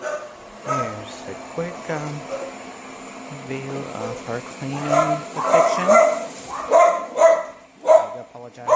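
Dogs in a home bark in repeated bursts at a running Airzeen robot vacuum cleaner, the barking getting louder and more frequent, with someone talking briefly early on.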